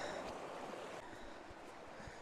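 A woodland stream flows gently nearby, a faint, even rush of water with soft burbles and no voices.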